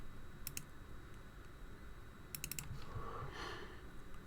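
A computer mouse clicks in two short, quick bursts of a few clicks each, faint and close, against a quiet room hum.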